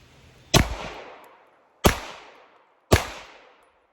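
Three pistol gunshots fired at a target through a Holosun 507C optic, each a sharp loud crack with a short decaying echo, spaced about a second apart, no talk.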